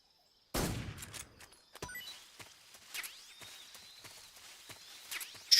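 A tranquilizer gun fires once in Metal Gear Solid 3, a sharp, loud shot from near silence that rings out briefly. Soft clicks, taps and faint chirping jungle ambience follow.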